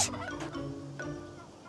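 A turkey on a farm in the Asir region gobbles in a loud, close burst of rapid rattling calls, with a few shorter gobbles following and no talking.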